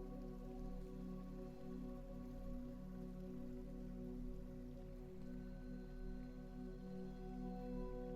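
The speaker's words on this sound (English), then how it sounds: "The rain continues beyond the glass." Rain falls steadily outside a window, a soft, even patter that stays faint and unchanging, with a low indoor hum underneath and no voices.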